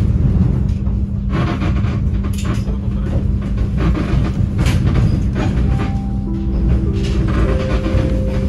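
Argo Parahyangan passenger train running on rails, heard from inside: a steady, loud rumble with faint clicking over rail joints and a few brief tonal squeals and whines near the end, with no talk.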